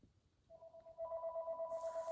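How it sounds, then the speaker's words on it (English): A telephone rings with a steady electronic warble that pulses in a regular rhythm, fairly quiet and heard alone without any talking. "phone's ringing."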